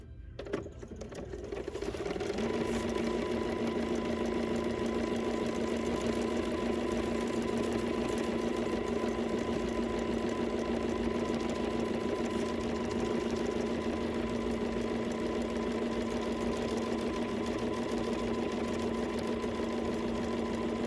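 A sewing machine stitching an embroidery sampler block, starting after a brief quiet moment and then running continuously with a steady, even mechanical whir for the rest of the clip.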